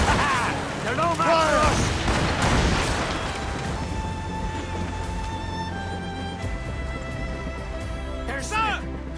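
Ship cannon volleys firing in the naval combat of the game Assassin's Creed Rogue, loud booming blasts and crashes packed into the first seconds, then fading to a steady rumble with a shouted line of speech over the battle.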